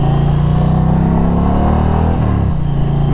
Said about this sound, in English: This bike sounds freaking good.